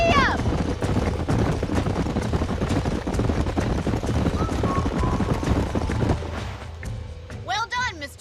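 Horse hooves galloping in Red Dead Redemption 2, a fast continuous clatter of hoofbeats with a low rumble beneath, easing off toward the end as a horse whinnies and other sounds rise.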